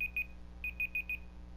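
A timer sounds in short clusters of high, piercing double beeps, evenly paced and close, over a low constant background static.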